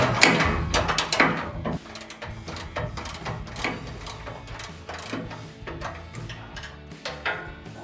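Close metallic clicking and grinding come from a ratchet and wrench tightening bolts on an off-road rear bumper for a 2020-2023 Chevrolet Silverado 2500, a busy run of repeated strokes with no speech.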